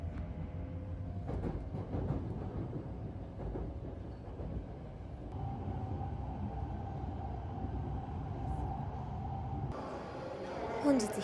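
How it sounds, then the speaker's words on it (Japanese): A Joetsu Shinkansen bullet train rumbles steadily along with a continuous low roar and faint rail clatter, heard from inside the carriage. "この新幹線は日本有数の豪雪地帯を通ることから、線路に温水が出るなど様々な雪対策がされている新幹線です。"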